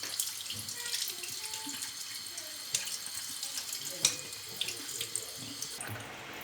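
Tap water streams steadily over an oven tray being rinsed in a sink, a continuous bright splashing hiss with small clatters and drips, close and constant throughout.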